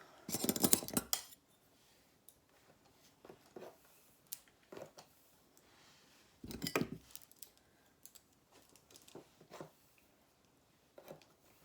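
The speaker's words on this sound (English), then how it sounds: "I'm going to take my scissors and my comb, give it a really good comb down." Scissors snip through hair during a one-length haircut, a few close, crisp metallic cuts in short bursts separated by quiet pauses, alone without talk.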